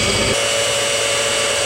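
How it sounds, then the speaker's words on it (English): A power drill bores out screw holes in an electrical panel, a steady, loud whine that runs through the whole stretch with no talking over it. "So that's why we're drilling this out right here."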